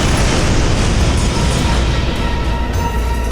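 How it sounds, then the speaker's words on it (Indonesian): A helicopter explodes, heard as a loud, sustained roaring blast that fills the whole stretch without letting up, with no voices over it. "Tidak, helikopter akan meledak."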